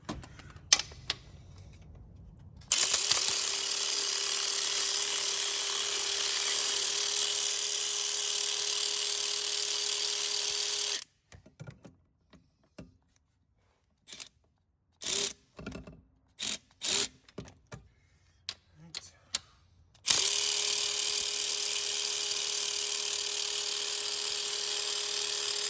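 Tools loosening bolts on a VW Golf transmission during clutch removal: a long steady mechanical whir, then a stretch of scattered clicks and ratcheting knocks, then the whir again, close and without talk.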